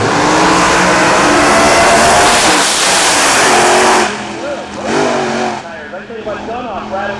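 A drag racing car launches hard with a loud roaring engine and rattling tires, then fades as commentators talk over the receding noise.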